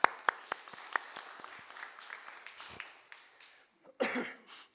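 Congregation clapping during a Sunday church service in Korea: a stream of sharp, scattered claps that thins out and pauses, then a short louder burst of applause near the end.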